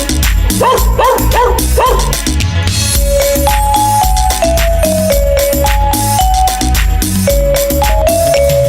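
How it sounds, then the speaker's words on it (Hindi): A dog's barks and yips open a Hindi children's balloon rhyme, a few short bursts in the first two seconds over loud, continuous music. "मुझे कुत्ते ने जगाया, बोला भाऊ भाऊ भाऊ।"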